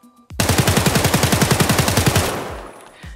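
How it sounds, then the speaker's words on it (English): An SA-58 rifle in a low-recoil build fires full auto in Escape From Tarkov: one loud, steady burst of about twenty rapid shots lasting roughly two seconds, then a fading tail. "Check this thing out in full auto, please."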